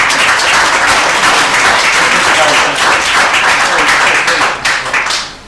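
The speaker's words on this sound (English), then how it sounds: "Give them a round of applause." Audience applauding young Irish dancers at a medal presentation ceremony, with dense, loud, sustained clapping from a crowd that holds steady before thinning slightly at the very end.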